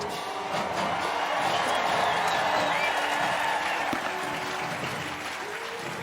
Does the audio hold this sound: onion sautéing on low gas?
no